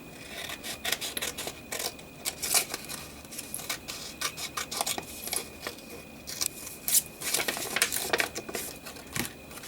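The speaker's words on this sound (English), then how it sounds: "I'm going to cut this envelope and see." Scissors snipping through a paper envelope at a desk, a run of quick crisp cuts in uneven bursts with faint rustling between, close and fairly quiet, no voice.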